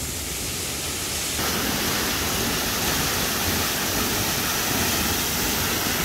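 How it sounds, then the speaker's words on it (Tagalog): Abungan Falls in Dingalan, Aurora roars as a steady, dense wash of falling water, close and loud, unbroken for the whole stretch with no voices. "Ito yung waterfalls, oh."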